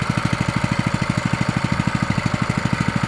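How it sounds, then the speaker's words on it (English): Small engine idling steadily with the choke off and fuel on, a fast, even low thumping pulse that stays close and loud throughout without talk. "Choke's on run, fuel's on. Engine's running."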